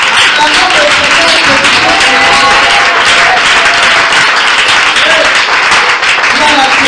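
A church congregation claps and cheers loudly and continuously during worship, dense applause mixed with voices and shouting throughout.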